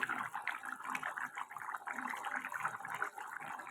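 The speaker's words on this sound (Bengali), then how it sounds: "দেখো ঝোলটা আমার প্রায় ফুটে গেছে" Pumpkin and paneer curry gravy coming to a boil in a pan, a steady close bubbling and simmering wash that fills the clip evenly with no pauses.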